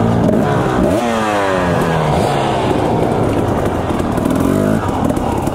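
A dirt bike motorcycle on a singletrack trail in Idaho revs and pulls away, its engine note climbing and falling through repeated gear changes, loud and close throughout the clip.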